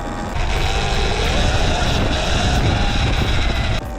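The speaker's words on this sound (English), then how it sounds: "in a little aeroplane" A light aeroplane's engine and propeller drone steadily and loudly near the Solent, a continuous broadband roar that holds level throughout, then cuts off abruptly just before the end.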